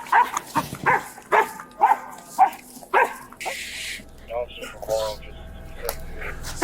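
A police dog barks in a rapid string of loud, close yaps during a foot chase, then scuffling and softer whimpers follow as people talk nearby.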